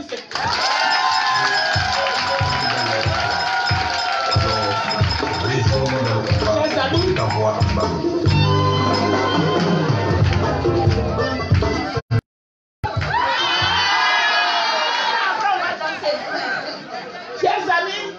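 A large crowd at a political rally roars with cheering, chatter and scattered clapping, loud and continuous, briefly cutting out for a moment before surging back.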